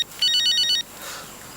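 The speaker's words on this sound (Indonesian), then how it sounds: "Ada telepon nih," A phone ringtone trills in a quick electronic burst of repeated beeps, loud and alone for about half a second before cutting off, heard in an Indonesian TV drama scene.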